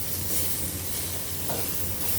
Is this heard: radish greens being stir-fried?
yes